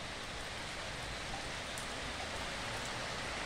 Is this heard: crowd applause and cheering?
no